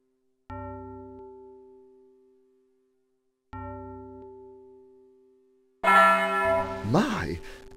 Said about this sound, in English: Henri, go and ring the bell again.